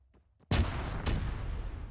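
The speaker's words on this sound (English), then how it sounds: "The explosion from the claymore did it!" A claymore mine explosion in ArmA 3 with the Unsung Vietnam mod: a sudden loud blast after near silence, a second sharp crack moments later, then a long rumbling tail.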